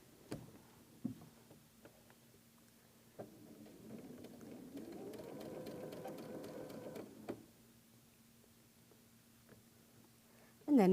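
A sewing machine joins freeform compass quilt block pieces in one fairly quiet run of several seconds, with a soft needle rattle rising and stopping, while faint clicks and fabric handling sound before and after.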